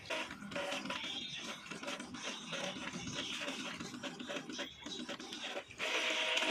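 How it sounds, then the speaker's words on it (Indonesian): An Epson inkjet printer runs automatically through a nozzle test page, a faint whirring and scraping mechanical feed heard close and alone. "printer ini secara otomatis akan mengeluarkan hasil dari tes printnya"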